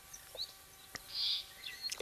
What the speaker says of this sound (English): there does appear to be quite a few birds in this tree